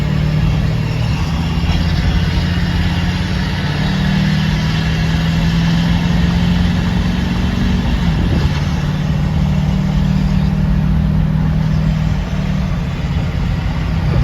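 Ford 6.4 Powerstroke diesel truck cruising on the road, a loud continuous low engine drone with steady drivetrain hum throughout and no talk over it.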